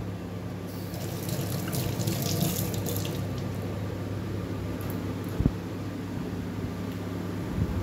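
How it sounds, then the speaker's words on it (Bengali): Hands are washed under a running kitchen tap, a steady close wash of flowing and splashing water with one small knock partway through and no speech. "তো হাতটা ধুয়ে নিই।"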